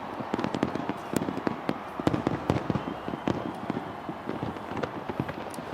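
Dense, continuous barrage of fireworks bursting at a New Year's celebration in Rio de Janeiro, with rapid cracks and booms overlapping steadily throughout and a crowd murmuring underneath.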